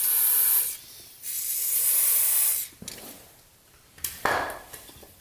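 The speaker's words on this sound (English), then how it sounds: "Just gotta spray these sort of plastic mounting things with some penetrating fluid, get those loose" Penetrating fluid sprays in sharp hissing bursts onto plastic caliper mounting parts on a Range Rover during a rear brake job, two long spurts followed by quieter clicks and shorter bursts, close to the mic.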